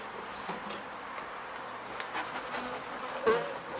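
Honeybees buzzing around a hive while swarms are being made, a faint, steady hum with occasional closer buzzes passing by, no talking.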